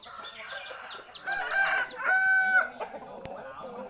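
A Cambodian gamecock rooster crows loudly nearby, a drawn-out, strained call preceded by a few short clucks from the fowl.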